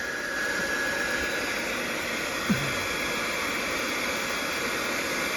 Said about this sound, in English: It's not a heat gun, it's his favourite hairdryer.